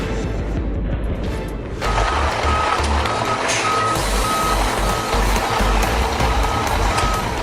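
A heavy truck at a tree-cutting and stump-removal site reverses, its loud evenly spaced backup beeps ringing over a deep, steady engine rumble, with no voices.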